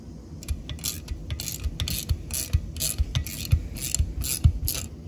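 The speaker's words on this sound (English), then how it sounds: "tighten that nut, compresses the spring" A ratchet wrench tightens a nut to compress a door spring on a 1975 Chevrolet Nova, giving a steady run of sharp metallic clicks close up with no talking.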